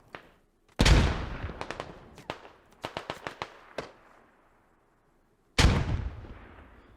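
Grenade explosions and gunfire in the video game Squad, two heavy booming blasts several seconds apart with a quick string of sharp rifle shots between them, close and loud.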